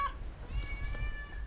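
A cat caught in the garden of a burning house meows repeatedly amid thick smoke, several close, strained cries over low background rumble and faint voices.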